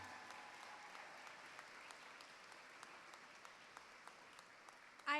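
Faint, distant applause for new high school students at a school assembly, a steady patter of clapping from the audience with a louder burst right at the end.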